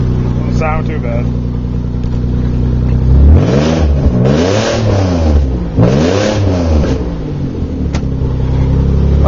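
An old car's engine idles and then revs loudly several times in rising and falling bursts close by, with people talking over it.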